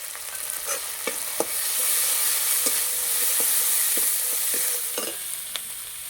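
Spice masala of turmeric, cumin, chili and Kashmiri chili powder fries in a pan for an egg and potato curry and is stirred. A continuous sizzle runs under scattered spatula scrapes and clicks.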